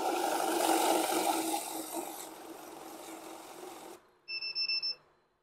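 A cash counting machine with a fake note detector whirs with a mechanical rattle for about four seconds, stops, then a quick series of four or five sharp electronic beeps sounds close by as it flags a fake note.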